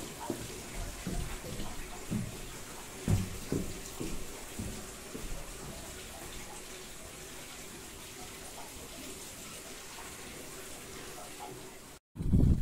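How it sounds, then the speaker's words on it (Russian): Spring water runs steadily into a bathing font beneath a hillside, a constant close gush and trickle with a few knocks early on and a sudden cut near the end. "Вода вначале вот оттуда затекает туда в купель, и потом вытекает вот здесь вот, и ручеек вот туда."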